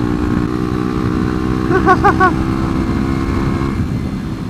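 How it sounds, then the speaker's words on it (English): A 125cc motorcycle engine drones steadily while riding slightly uphill, with a brief rise in revs after a downshift; the engine stays loud and close throughout. "Drop a gear because, you know, it's slightly uphill and the revs are starting to drop."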